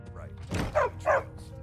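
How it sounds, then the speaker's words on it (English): A dog in the video game Skyrim gives a couple of quick barks and yips, close and moderately loud, over a low game background. "Stupid dog."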